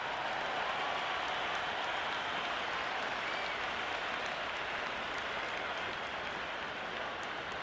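Crowd applause fills the stands at a T20 World Cup cricket match between Australia and South Africa, a steady, dense roar of clapping and cheering lasting throughout without pause.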